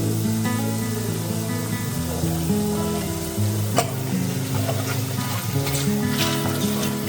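Pumpkin curry with pigeon peas, coriander powder, garam masala and red chili powder sizzles loudly in a pan while being stirred, a continuous close crackle broken by occasional scraping clicks and no talking.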